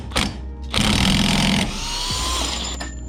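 Impact wrench fitted with a 32 mm socket loosening an axle stub on a Nissan 240SX, a loud sustained mechanical rattling burst lasting about two seconds after a short initial hit, with no talking.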